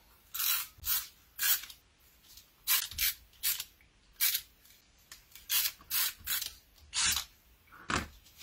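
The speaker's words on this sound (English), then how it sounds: "My tape runner." A handheld tape runner lays adhesive tape onto card backing in about a dozen quick, crisp rasping strokes. Each stroke is close and distinct, separated by short pauses, with no voices.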